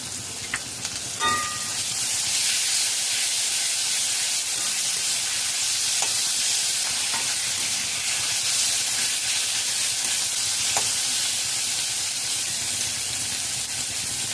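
Onion frying in a pan with garlic and ginger paste just added, a steady loud sizzle and hiss throughout with a few faint clinks of stirring, no voices.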